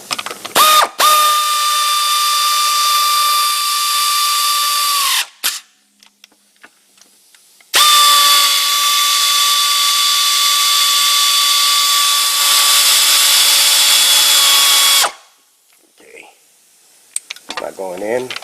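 A power tool spins and tightens bolts on a transmission valve body, making two long, loud, high-pitched whirring runs separated by quiet gaps with light clicks and handling noises.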